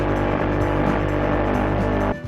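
Onboard camera audio from an FPV quadcopter drone in flight, a loud, steady buzzing motor and wind roar with no break until it cuts off abruptly near the end.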